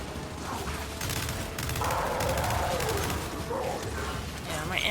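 Gunfire in the video game Gears 5, rapid bursts of shots with mechanical clatter over game action, fairly loud and close, joined by a voice partway through.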